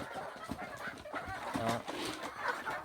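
Four-month-old native chickens cluck and chatter close by in a farm pen, a steady overlapping flock murmur with no talk.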